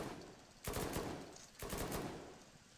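Machine gun fire in a video game raid comes in two rapid, loud bursts close together, each a dense rattle of shots that cuts off sharply before the next begins.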